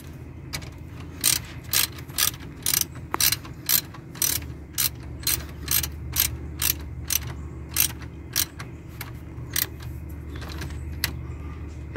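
A ratchet tightens a nut on a car battery terminal. Rapid clicking bursts come in a steady, evenly spaced series, close and alone, over a low background hum.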